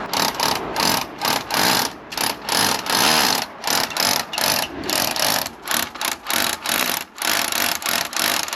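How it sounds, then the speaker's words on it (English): A power drill bores holes through the back of a base for an outdoor lighting terminal box, a loud close whirring grind in repeated short bursts, starting and stopping in a choppy rhythm. "we now have to drill up from the back of the base and come out roughly about here for our terminal box"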